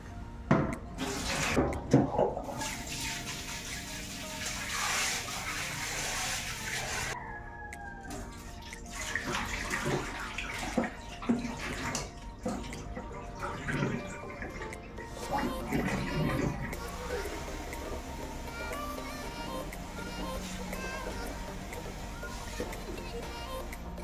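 Mung beans being washed under running water, a close splashing and trickling stream with clattering and rinsing bursts, while people talk and a chicken is faintly heard in the background.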